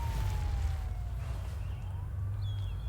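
Police siren in the video game Road 96 wails steadily beneath a low background drone, moderately distant and faint, with a brief high tone near the end and no voices.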